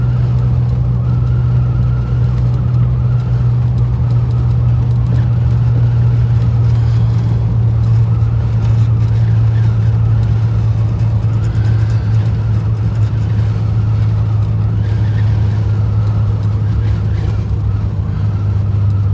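A 1959 Buick with a rebuilt carburetor cruises on a test drive, its engine a loud, steady low drone heard from inside the car with no letup.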